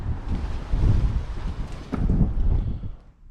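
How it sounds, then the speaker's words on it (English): Gusty wind buffets the microphone outdoors on an apartment balcony in Antwerp, Belgium, in a steady low rumble that swells in two stronger gusts before easing off near the end. "That's if the wind dies down."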